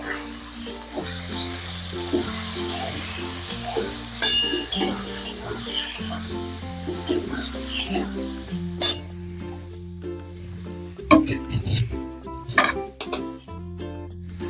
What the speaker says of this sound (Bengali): তো এরপরে একবার খুন্তি দিয়ে নাড়িয়ে চাড়িয়ে নেব।